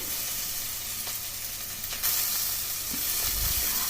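Onions frying in hot oil in a pan for brinjal curry give a constant close sizzle, with a few scraping stirs and a louder burst of hiss near the end.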